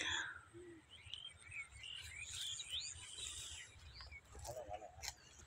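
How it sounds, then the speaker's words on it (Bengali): Many birds chirp and call faintly at Tulshia Bil, a wetland bird sanctuary in Panchagarh, with scattered tweets over a low, steady outdoor background and some distant voices. "প্রচুর পাখির কলকাকলি।"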